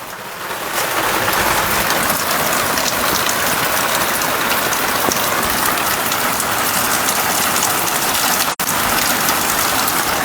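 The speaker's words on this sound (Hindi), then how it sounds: "बारिश जो है वो लगातार हो रही है" Heavy rain pours steadily in Jammu and Kashmir, a dense continuous hiss of drops striking a surface, loud and close, with one brief dropout near the end.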